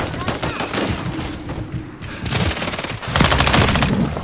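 Rapid bursts of BAL-27 assault rifle fire in the multiplayer shooter Modern Warfare 3, close and crackling, interrupted by short pauses and mixed with other game noise.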